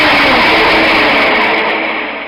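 A freshly repaired engine runs at a steady, smooth idle, a loud continuous broadband drone with no break or change in pitch, close by and without voices.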